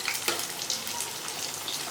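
Chana dal vadas frying in hot oil over a medium flame give a steady, close crackling sizzle with small bubbling pops, running alone and evenly throughout.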